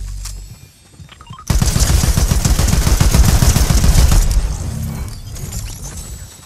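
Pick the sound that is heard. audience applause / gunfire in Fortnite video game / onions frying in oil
gunfire in Fortnite video game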